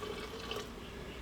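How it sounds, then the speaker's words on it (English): Water runs from a tap into a pot of thickening polenta, a soft, steady trickle and splash that stays faint and even throughout. "So the polenta has already thickened up quite a bit, so I'm just gonna add in more water."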